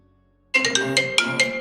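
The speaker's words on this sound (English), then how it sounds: "My phone is ringing." A mobile phone ringtone starts suddenly after a short quiet gap and plays as a bright, rhythmic melodic pattern of repeated notes, loud and close, with no talk over it.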